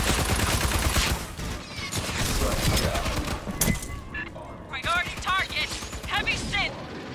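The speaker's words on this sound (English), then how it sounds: "They're shooting through walls?" Enemy gunfire in the sci-fi shooter Aliens: Fireteam Elite, bursts of rapid shots cracking steadily through a busy firefight, with voices talking over the action.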